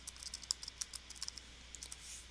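Someone types a Photoshop layer name on a computer keyboard, a quick irregular run of light, close key clicks at moderate volume with no voices.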